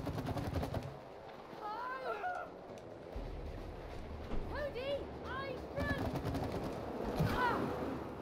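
Shots pepper a wall in the video game It Takes Two, bursts of quick repeated pops with chirpy, whistling game effects, mixed under a player talking and game music.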